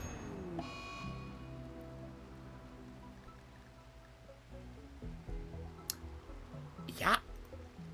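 Steady rain falls in the colony-building video game RimWorld, a soft continuous patter layered under game music, with a few brief clicks near the end.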